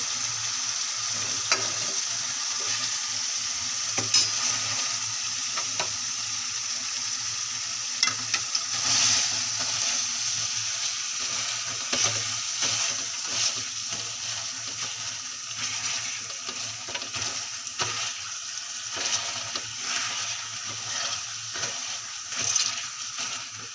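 Potatoes sizzle steadily in a frying pan for dosa bhaji while a spoon stirs them, with continuous frying hiss and scattered scraping strokes, close and moderately loud, with no talk.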